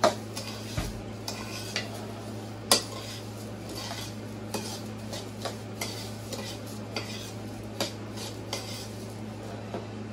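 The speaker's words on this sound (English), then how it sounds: "we're just going to mix all this dry ingredients together" Dry granola bar ingredients being mixed in a bowl, with a quiet rustle under a steady background hum and scattered light clinks and taps of a utensil against the bowl, including one sharper knock.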